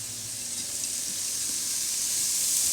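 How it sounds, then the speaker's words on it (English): One large onion frying in a small amount of olive oil, giving a steady, even hiss of sizzling that holds throughout without talk. "I put just a little bit of olive oil in here, just a tiny bit. And we're going to put the onions in."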